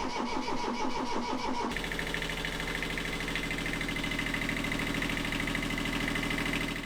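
A sailboat engine, after trouble starting and a fuel filter change, cranks with a rhythmic churning for a moment, then catches and settles into a loud, steady running drone that continues to the end.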